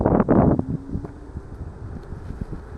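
Ninebot Max G2 electric scooter on its first ride, with steady wind rush and road rumble throughout, a loud buffeting gust at the start, then a quieter continuous whoosh dotted with small knocks.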